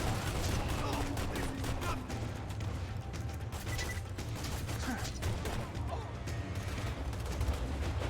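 Gunfire from the video game Borderlands 2, a dense continuous barrage of rapid shots and mechanical clatter filling the whole stretch, loud and busy throughout.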